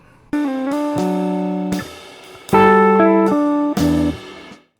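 A guitar plays bars 13 and 14 of a song, a short passage of plucked chords and bass notes, loud and close, with a few distinct strums and ringing notes.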